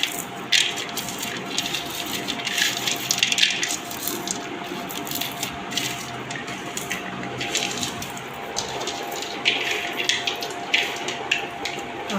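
Soaked peanuts are rubbed and washed by hand in water, giving continuous close squishing, rattling and splashing that rises and falls in intermittent bursts.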